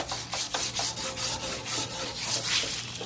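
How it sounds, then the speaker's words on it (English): Someone scrubs an old go kart clean with a brush, producing rhythmic, rough back-and-forth rasping strokes about three per second. The strokes are close and loud, with nobody speaking. "Now that's how you scrub."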